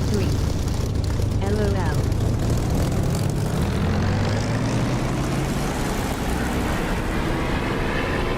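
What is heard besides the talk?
aircraft engine throttling up in DCS flight simulator video game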